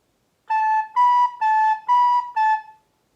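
A recorder plays five clear sustained notes in an alternating pattern, switching between A and a second pitch, each tone evenly spaced with short gaps, bright and close with no talking.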